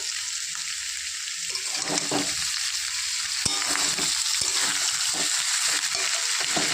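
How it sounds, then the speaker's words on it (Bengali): Water poured into a hot pan of prawn and taro curry sets off a steady loud sizzle and hiss, broken by scattered stirring clatters, with no one talking. "এবার আমি দিয়ে দেবো জল পরিমাণ মতো জল দিয়ে দিয়েছি"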